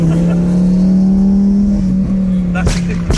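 A powerful twin-turbo car engine roars steadily from inside the cabin, its deep drone slowly shifting in pitch as it pulls hard, with brief voices near the end.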